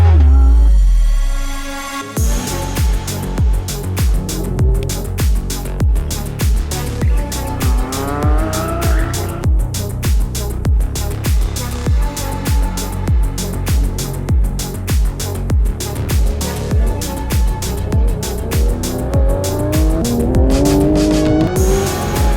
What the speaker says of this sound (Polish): for a rear-engine car with the power of a works Porsche